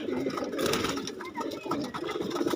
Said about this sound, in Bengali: আমার মাদি কবুতর